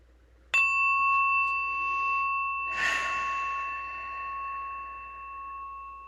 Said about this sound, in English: So I'm going to start with the bell